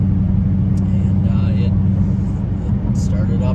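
Dodge Challenger SRT idling after a cold start on a 46-degree morning, having sat outside overnight; a deep, steady, loud engine rumble close by, with someone talking over it.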